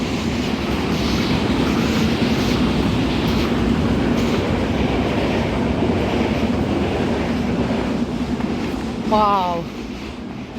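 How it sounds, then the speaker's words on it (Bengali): A train passes close by near Mirsarai, Chattogram, Bangladesh, a loud steady rumble and rattle filling the whole stretch, with a brief higher squeal near the end. "দেখেন ট্রেন ট্রেনে আওয়াজ হচ্ছে"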